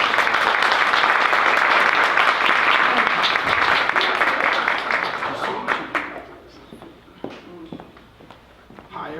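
Audience members at a literary magazine release event in a bookstore applaud to welcome a writer, loud continuous clapping for about six seconds that thins into a few scattered claps before fading.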